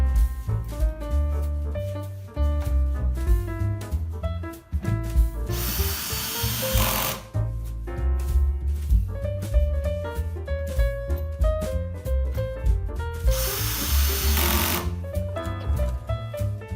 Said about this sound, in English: And then we used a lot of screws to bolt it all together.